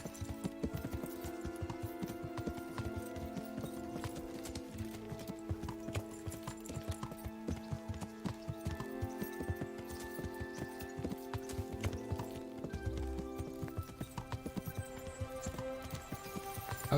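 Steady clip-clop of horse hooves at a brisk pace uphill in Kingdom Come: Deliverance, with an occasional whinny, continuous and fairly close.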